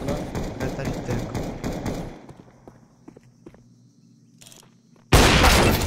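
Gunfire in Counter-Strike 2 on the Ancient map: a dense run of rapid shots and clatter for about two seconds, sparse clicks and footsteps, then a sudden loud burst near the end, with a voice heard faintly.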